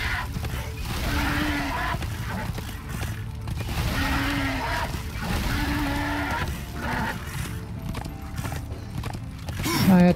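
Horse hooves clip-clopping in a steady galloping rhythm in the Darksiders II video game, close and continuous, with a few whinnying neighs breaking through over other game sounds.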